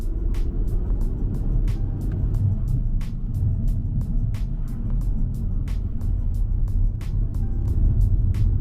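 An Audi S3 8P hot hatch drives along, its engine and road noise a steady low rumble heard from inside, with a regular ticking sound repeating throughout.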